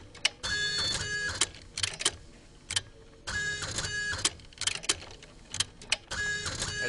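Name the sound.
polygraph machine printing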